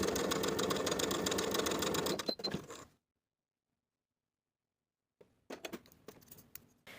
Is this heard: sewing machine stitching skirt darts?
yes